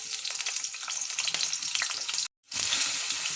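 Small chopped, washed potatoes hit hot oil in a pan with a loud, crackling sizzle that runs steadily, cuts out briefly, then resumes bright and hissing with light stirring scrapes.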